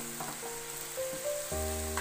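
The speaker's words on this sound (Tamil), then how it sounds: "வெஜிடபிள் இப்போ நல்லா கிளறி விட்டாச்சு" Mixed vegetables for veg biryani sizzle and fry steadily in a pan while being stirred, a close, continuous crackling hiss with faint scraping.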